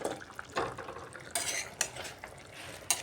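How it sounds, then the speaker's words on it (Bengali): A spoon stirs chalkumra (ash gourd) curry in a pan after the lid is lifted, with several sharp scraping and clinking strokes against the metal over a faint sizzle, close and fairly loud. "এভাবে উপর নিচ করে একটু নাড়িয়ে দিচ্ছি"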